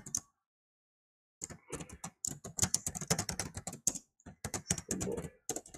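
Close computer keyboard typing HTML code, a short pause and then rapid irregular bursts of key clicks with brief gaps between runs, no talking.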